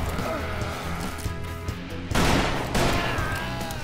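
Gunfire in the Western shooter game Call of Juarez: Bound in Blood, a dense burst of shots cracking close and loud, growing heavier toward the end.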